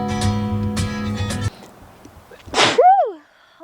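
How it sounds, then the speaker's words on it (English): One person sneezes sharply, a short explosive burst with a rising-falling vocal tail, following a moment of music that cuts off. "Am I the only one that needs to look at the light to sneeze?"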